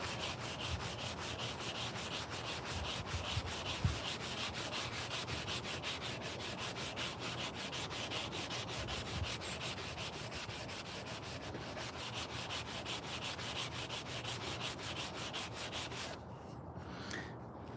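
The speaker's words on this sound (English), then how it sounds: "I like these sanding blocks. They work a lot better than just a single strip of" A sanding block rubs steadily back and forth over a carved wooden spoon, a continuous close, dry scratching that holds at an even level with only a brief pause near the end.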